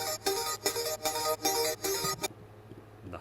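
A normal-octave pluck synth pattern from a Logic Pro X pop production, bright short plucked notes repeating in a quick, bouncy rhythm, then cutting off into near silence.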